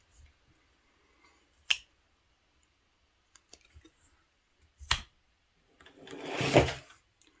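Rough Ryder carbon linerlock utility knife blade snapping into its lock, a few sharp isolated clicks spaced seconds apart in a quiet room, followed by a longer rustling handling noise.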